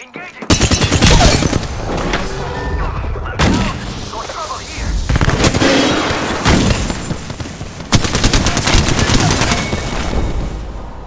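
Gunfire in Apex Legends: heavy bursts of automatic shots and booming blasts come in several loud, dense volleys separated by brief pauses, with a voice calling out between them.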